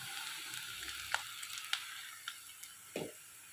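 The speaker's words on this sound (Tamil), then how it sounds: "ரவையை நல்லா நெய்யிலேயே வறுத்துக்கலாம்." Semolina roasts in ghee with cardamom in a pan for kesari, giving a faint, soft sizzle with a few light clicks and scrapes, quiet and without voices.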